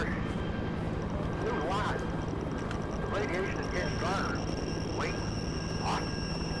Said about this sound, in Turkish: Helikopter nereye gitti?